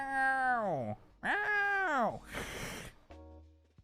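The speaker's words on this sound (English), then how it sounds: "Got some cat sounds if you want to use them." A hungry cat meows loudly and close by, two long rising-and-falling cries followed by a breathy, noisy vocalization and a short final sound.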